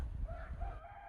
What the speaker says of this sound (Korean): 지금 막 닭이 막 울고 있네요